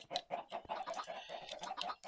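Dense crowd of roughly 180 to 200 video-game chickens on a chicken farm, clucking continuously in overlapping bursts, fairly loud and close, with no talk.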